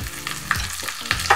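Curry leaves dropped into hot oil with cut dried red chillies after the gas is switched off, a short close crackling sizzle with a few sharp spits and pops.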